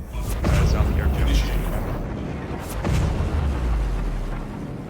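Artillery explosions in the Star Citizen video game, two heavy booming blasts a couple of seconds apart, each followed by a rumbling low roar, loud and close with noisy game ambience throughout.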